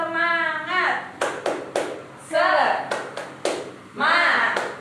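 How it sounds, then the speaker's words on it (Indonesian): Schoolchildren in a second-grade classroom perform a rhythmic group clap, sharp unison claps in a patterned sequence alternating with the kids and teacher chanting between the beats. "Tepuk semangat."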